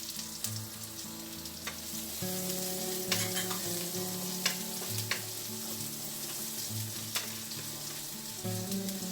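Garlic and onion sautéing in a pan for a vegan curry, a steady quiet sizzle with occasional stirring clicks and scrapes, close by, no voices.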